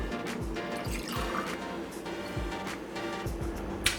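Apple cider vinegar is poured into a pan while cooking an omelet, a soft steady trickle of liquid with faint drips and light kitchen clatter, close and quiet.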